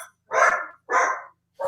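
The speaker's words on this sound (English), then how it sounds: "We got two dogs barking." Two dogs barking indoors at a home, heard as three loud, close bark bursts separated by short silent gaps, with no talking.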